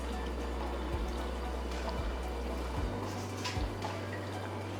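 Milk drained and poured from a pot into a bowl, a soft continuous liquid pour over a low steady hum, quiet and close with no speech.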